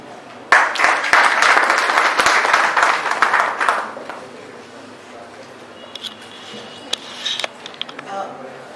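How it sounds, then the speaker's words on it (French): An audience at a certificate ceremony claps in a loud burst for a few seconds that quickly dies away, leaving a few stray claps and low room noise. "Merci de l'applaudir."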